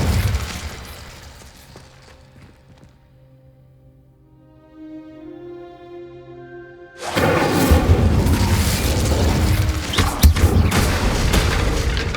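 Incendio fire spell cast in the video game Hogwarts Legacy: a rising tonal shimmer builds, then bursts into a loud, sustained roaring whoosh of flame with crackling impacts that fills the rest of the moment.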